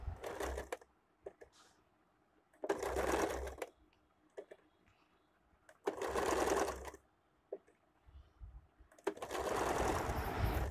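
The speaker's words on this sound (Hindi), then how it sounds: "इस तरह से मैं इसको सिल लूँगी।" Stitching a sleeve lining, a sewing machine runs in three clear bursts of rapid, close mechanical chatter, each lasting about a second, separated by quiet pauses filled only with faint handling noises.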